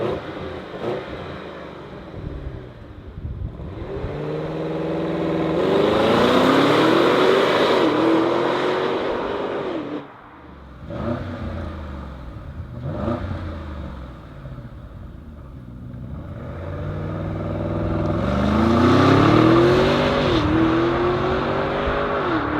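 A 2021 Audi SQ 4.0-litre V8 bi-turbo with cylinder on demand and mild hybrid, over 500 hp, revs hard twice at close range, each climb rising and falling in a loud, throaty surge with a lighter idle between.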